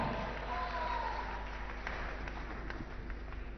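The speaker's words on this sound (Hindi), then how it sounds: "एक बार तालियां जोरदार हो" Audience applause at an amateur boxing bout, a steady wash of clapping from the crowd around the ring, fairly faint and spread out, with a soft voice faintly present underneath.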